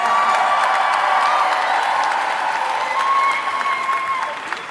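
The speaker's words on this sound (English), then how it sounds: "Another round of applause for Mahmoud." A conference keynote audience breaks into sustained, dense applause that stays loud and steady for several seconds before easing slightly at the end, with a few voices mixed in.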